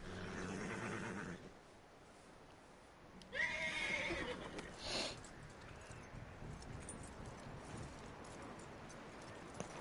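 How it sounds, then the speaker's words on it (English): A horse in Red Dead Redemption 2 gives a clear whinny over soft hoof clip-clops and outdoor ambience, with a quieter snort or second neigh shortly after. "That looks like a decent horse."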